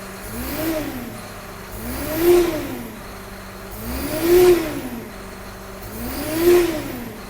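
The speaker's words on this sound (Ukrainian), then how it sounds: "запустився двигунчик, все працює добре" John Deere 6210R tractor engine running after reprogramming with EGR and DPF removed, idling steadily and revving up three times in a regular rise-and-fall pattern, close and fairly loud.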